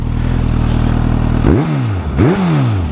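A Suzuki GSX-S1000GX sport touring motorcycle engine runs steadily, then revs up sharply twice, each rev rising in pitch and falling back, loud and close.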